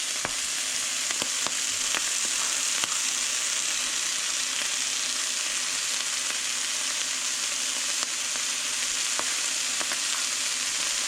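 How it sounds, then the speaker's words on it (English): Morel mushrooms fry in a pan with a constant, close hiss of hot oil, dotted with occasional soft pops and clicks throughout. "make sure they fry from both sides good"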